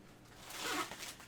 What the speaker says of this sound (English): It zips up into a suitcase